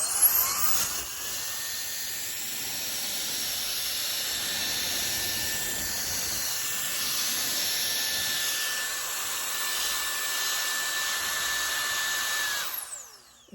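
A Vogma V9 Turbo Fan runs at power, giving a loud, steady close-up rushing roar with a constant high whine throughout, ending abruptly as it cuts off.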